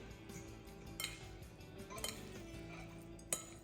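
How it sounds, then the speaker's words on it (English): Chopsticks clink and scrape against a bowl while Sichuan ZhaJiangMian noodles with spicy minced pork sauce are tossed, close and fairly quiet, with sharp taps near one, two and three-and-a-half seconds over a steady low background. "Mix it all up very well."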